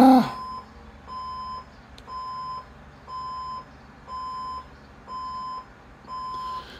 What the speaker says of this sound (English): Don't worry, I'm going to turn off the alarm in a second.